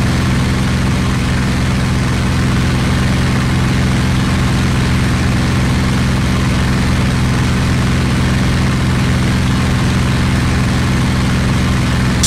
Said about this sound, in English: Hopefully that engine's not going to cook itself.